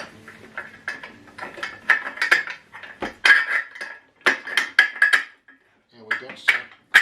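Ratcheting clicks of a screw being tightened into a CAHAYA adjustable keyboard piano bench, quick metallic clicking bursts in short repeated runs with brief pauses, close and fairly loud.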